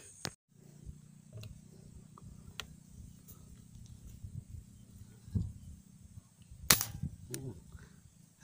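Air rifle shots while hunting birds outdoors, a few sharp isolated cracks spread across the stretch, with faint rustling and low background noise between them.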